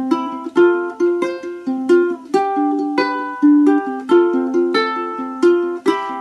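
Ukulele fingerpicking rings out alone, close and clear, with a steady pattern of bright plucked notes repeating over about six seconds.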